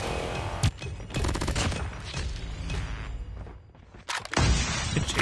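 Rapid bursts from a nail gun in a Call of Duty game, sharp clattering shots in quick strings with a brief lull before another loud burst near the end.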